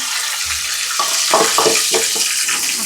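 Food frying in hot oil in a pan, a steady loud sizzle with crackling pops and occasional stirring scrapes, close up.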